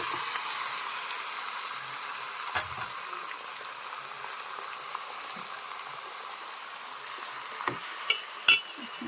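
Marinated chicken frying with cooked-down onions in a pan gives a steady, close sizzling hiss, with a few soft clicks and taps of stirring near the end.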